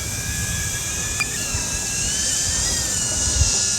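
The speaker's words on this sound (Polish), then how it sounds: "ten dron z tymi śmigłami jest bardzo, bardzo głośny" A DJI Avata drone flies with its propellers buzzing loudly, a high, steady whine with a shifting pitch running continuously and close by.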